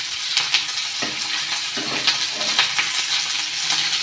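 Chopped onion and garlic sizzle loudly in a hot pan for a soya masala chili, with a steady crackle broken by clattering stirs and scrapes.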